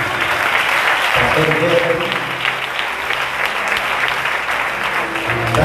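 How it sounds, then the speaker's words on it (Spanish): Loud, sustained applause from a large church congregation, steady throughout, with a voice speaking briefly over the clapping. "Démosle palmas a Cristo."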